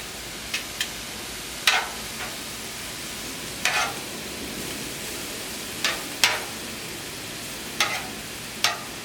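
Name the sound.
mushrooms sizzling on a griddle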